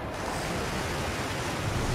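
Water in the video game Ōkami gives a steady, dense wash of surf-like noise that stays even throughout with no other sounds.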